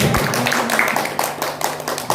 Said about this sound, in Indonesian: Tepuk tangan buat PPMI.